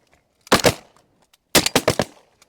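Shotguns fire at wigeon and mallards on a duck hunt, one loud close blast and then a quick volley of three or four shots about a second later, with excited voices in between.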